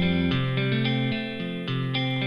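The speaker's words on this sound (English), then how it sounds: "See, I've pressed the blue echo on and off." Synth or keyboard chords from a GarageBand backing track play in steady changing blocks, with a blue echo effect toggled on and off so repeats and a washy tail come and go; no one speaks.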